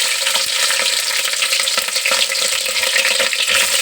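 Onion and green chilli fry steadily in hot oil in a home kitchen pan, with mustard seeds and curry leaves already in it, giving a dense continuous sizzle with occasional stirring scrapes, close and loud throughout.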